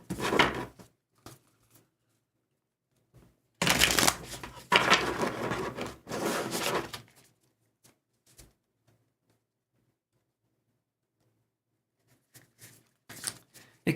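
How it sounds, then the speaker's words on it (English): Tarot cards are shuffled by hand in a quiet room, a few brisk riffling bursts separated by silence, with one longer shuffle in the middle and faint soft taps toward the end. "Let's give these a shuffle here."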